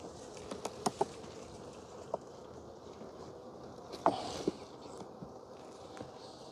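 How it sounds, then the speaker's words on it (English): Honey bees work on a hive frame, a soft continuous buzzing hum close by, broken by a few faint clicks and light taps from handling the frame. "We got bees working"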